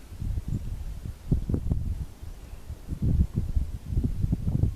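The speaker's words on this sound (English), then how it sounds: "The wind blows. And then it rests." Wind gusts in uneven waves outdoors, a soft low rushing that swells and settles in repeated surges, close to the microphone, with no talking.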